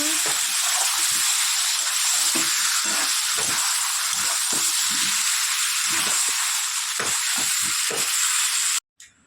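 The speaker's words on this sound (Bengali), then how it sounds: "মাংসটাকে মাখিয়ে নিয়েছি এবার এর মধ্যে দিয়ে দিলাম খুব ভালো করে কষিয়ে নিই" Marinated meat sizzles loudly and steadily as it is sautéed in a pan, a dense frying hiss with a spoon scraping and stirring at intervals, ending abruptly near the close; no one speaks.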